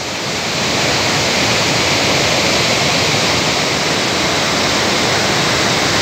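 Water rushing steadily down through dense forest brush, a loud, continuous broadband roar that stays close and constant throughout with no voices.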